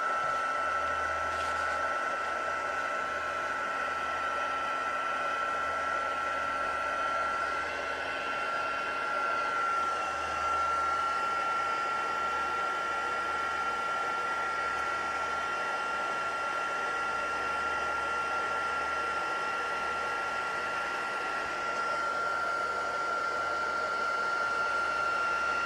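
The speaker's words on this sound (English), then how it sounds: "Let me grab my heat tool and I shall warm it up." A heat tool for embossing card blows steadily as it warms up, a constant whirring hiss with a thin high whine, moderately close, running unbroken for the whole stretch with no voices over it.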